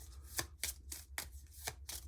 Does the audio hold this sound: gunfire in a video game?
no